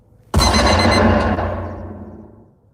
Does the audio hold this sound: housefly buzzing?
no